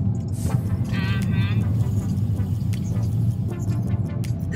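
A car driving along mountain roads on Andros island, Greece, its engine and road rumble steady and close throughout, with people talking and laughing over it.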